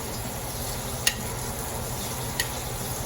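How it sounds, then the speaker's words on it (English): Shrimp and saved shrimp shells sizzle steadily in olive oil in a paella pan, a constant dense frying hiss with two faint clicks of a utensil, no voices. "we're going to add the shrimp and the shrimp shells that we had saved"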